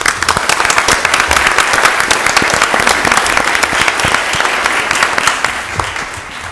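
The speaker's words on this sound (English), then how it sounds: "so we can give them a round of applause" Audience applause at a city council meeting for a standing scout troop, Scout Troop 147, with their parents present; dense steady clapping from a room full of people runs evenly throughout without letting up.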